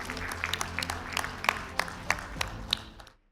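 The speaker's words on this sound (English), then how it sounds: "A big round of applause, ladies and gentlemen." Moderate applause from a small audience at an awards ceremony, a steady patter of claps that fades out toward the end.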